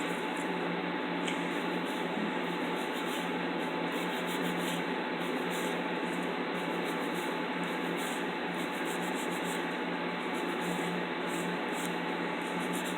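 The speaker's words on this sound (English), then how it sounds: "go ahead and go in here with an 80-100 file that's meant specifically for acrylic" Steady, continuous abrasive rubbing of an 80-100 grit nail file on acrylic nails, light and even, with a constant fan hum underneath and no talking.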